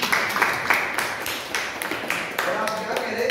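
A class of students clapping in a school setting, a burst of scattered hand claps with uneven rhythm, moderately close, with talking mixed in over it.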